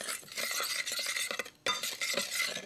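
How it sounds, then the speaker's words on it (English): Spoon stirring turkey seasoning with olive oil and black pepper in a bowl, a steady close wet scraping and swishing with faint clinks, briefly pausing once before resuming. "Just gonna mix this around a little bit."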